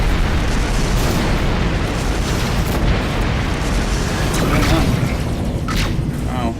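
Incoming missiles explode in the space combat video game Rebel Galaxy: loud, booming blasts over a constant dense rumble, with a few sharper bursts toward the end.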